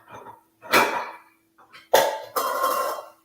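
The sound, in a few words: getting a small bowl out, dishes clattering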